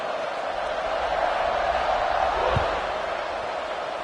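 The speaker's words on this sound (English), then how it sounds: "this crowd is buzzing after that last score" A football stadium crowd buzzes after a touchdown, a broad, steady roar of many voices with a brief thud partway through.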